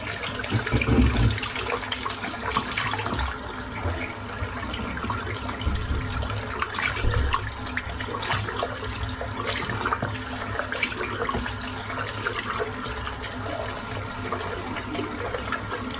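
Running water rinses dense, high-oil shaving soap residue out of a bowl, a continuous splashing flow with scattered knocks and sloshes, steady and fairly close.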